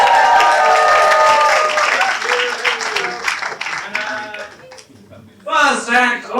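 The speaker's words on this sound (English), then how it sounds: "Could I have a round of applause as I make my way to my chair" Audience at a London comedy open-mic night clapping and cheering, loud and close, with a host's voice and musical tones mixed in before a brief lull and a renewed burst near the end.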